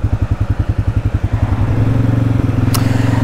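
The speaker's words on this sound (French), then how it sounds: "la sonorité, même avec l'échappement d'origine, la sonorité est assez flatteuse." A Can-Am Outlander 700 ATV engine on its stock exhaust runs close by with a steady pulsing beat, first distinct throbs and then a smoother, continuous drone as it settles into a constant note.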